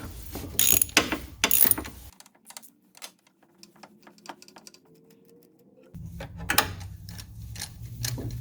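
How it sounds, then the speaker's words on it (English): A ratchet on a long extension works 13mm bolts loose on a SAAB's secondary air injection system, giving bursts of rapid clicking at the start and again near the end, with quieter scattered taps between. "the first step is going to be to undo these 13mm bolts"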